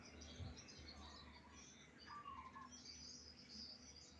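Several small birds chirp and call back and forth beneath a tree outdoors, thin tweets overlapping at moderate distance over a steady low hum of background noise.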